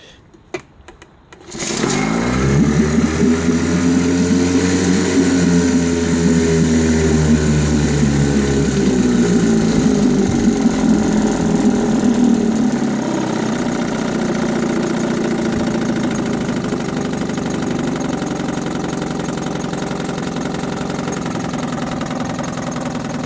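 A 1967 Johnson 3hp Folder outboard motor with a new impeller starts after a brief moment and settles into a steady, loud, low idle that runs on alone for about twenty seconds.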